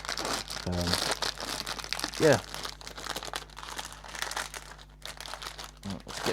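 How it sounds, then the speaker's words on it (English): Close, loud crinkling and crunching of a plastic bag as a 1/100 scale Maus superheavy tank model kit is unwrapped, continuous rustling bursts while someone talks briefly. "first step, get it out of this plastic bag"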